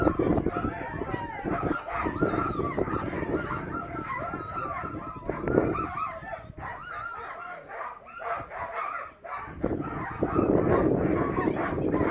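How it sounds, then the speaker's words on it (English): Sled dogs bark and yip excitedly at an eight-dog mushing race in Tok, Alaska, a steady noisy chorus of many dogs with a rooster-like crowing call mixed in, near and loud. "Today he's running lead dogs, Rocket and Quill."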